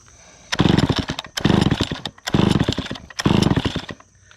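A small gasoline engine on camping and RV repair gear is throttled in four loud bursts of revving close by, each rising and falling with brief gaps of near quiet between them.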